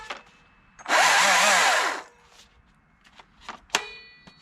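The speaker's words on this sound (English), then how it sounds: "we'll just start making some cuts in real time, and you guys can just see how it performs" A Stihl MSA 220 C battery chainsaw whines up loudly for about a second of cutting, then stops, followed by scattered clicks and a sharp clank.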